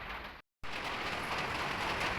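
Light rain falling at the start of Typhoon Uwan in Pasig City, a soft steady patter on surfaces broken by a brief cut of silence, with no voices over it.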